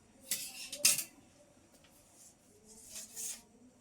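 Scissors cut blouse fabric in a few quiet, close snips: two sharp bursts early on, then a softer pair near the end, with low room noise between.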